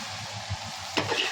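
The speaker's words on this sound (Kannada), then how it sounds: "ಈರುಳ್ಳಿ ಎಲ್ಲ ಬೇಯ್ದಿದೆ ಗೈಸ್. ಇವಾಗ ಸೊಪ್ಪು ಹಾಕ್ತವ್ರೆ." Greens dropped into a hot pan of cooked onions for a Karnataka bissi bassaru meal, a sudden burst of sizzling frying over a steady background crackle, close and fairly loud.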